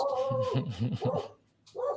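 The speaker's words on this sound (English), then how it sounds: "Oh, we have a dog now." A dog whines and whimpers in a few drawn-out, high-pitched cries, broken by short yips, close by and interrupting a conversation with people talking.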